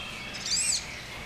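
A duck at a wildlife sanctuary gives a single short, high chirping call, like a bird's tweet rather than a quack, fairly close and rising briefly above a quiet outdoor background with no talking.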